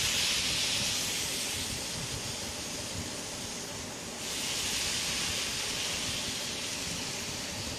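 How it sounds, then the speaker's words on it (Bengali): Sliced old cucumbers hissing steadily in hot oil for a Bengali curry with hilsa fish head, a continuous broad sizzle that swells slightly partway through, with no talking. "এবার ওই তেলের মধ্যেই আমি কেটে রাখা শসাগুলো দিয়ে দেব।"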